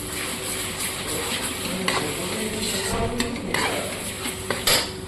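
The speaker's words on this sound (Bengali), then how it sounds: "কাঁচা লঙ্কা গোটা জিরে গোটা ধনে বাটা। এবার এটাকেও কষিয়ে নেব।" A paste of ground green chilli, cumin and coriander sautéing in a pan with onion, ginger and garlic; steady sizzle under the repeated scrape and clink of a spoon stirring against metal.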